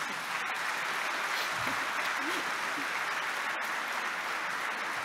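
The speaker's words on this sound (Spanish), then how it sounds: "Yo les voy a pedir que con eso le demos un fuerte aplauso a Claudia y a las otras" An audience at a sugarcane agro-industry conference gives a strong, sustained round of applause, a dense, loud wash of many hands that holds steady from start to finish.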